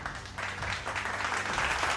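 A soundboard applause effect plays during a live football club awards stream, a steady wash of clapping and cheering at moderate level that swells slightly as it goes.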